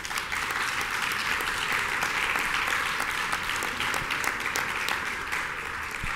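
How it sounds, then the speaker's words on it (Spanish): Loud, sustained audience applause at a human rights symposium as a speaker is introduced, dense clapping with a few cheers, steady from start to finish. "Démosle un gran fuerte aplauso."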